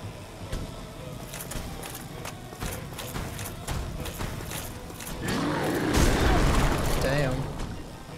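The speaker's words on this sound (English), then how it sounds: "I almost died to this horse standing right there" Horse hooves clip-clop in a Dark Souls game, a series of sharp thuds over steady game ambience that swells into heavier rumbling impacts late on.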